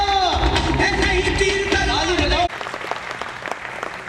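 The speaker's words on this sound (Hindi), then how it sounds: "तालियां" Audience applause at a distributor training event as a guest is called to the stage, first under loud stage music, then continuing as steady clapping after the music cuts off.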